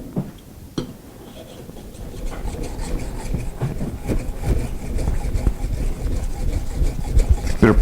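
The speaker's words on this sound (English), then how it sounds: "Now I'm moving the blade around on the stone on purpose." A plane blade in a honing guide rubs back and forth on an oiled sharpening stone, a close, steady gritty scraping that grows louder and more continuous under pressure.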